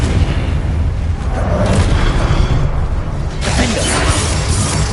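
A Confringo spell explosion from the video game Hogwarts Legacy comes through as loud, crashing bursts with a shattering, mechanical texture. A fresh blast hits about two-thirds of the way in over a continuous roar, with no voices.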